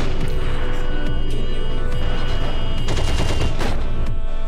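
Gunfire in the World War II video game Heroes and Generals: dense, continuous bursts of rapid shots and booms overlap loudly from start to finish, with faint voices mixed in.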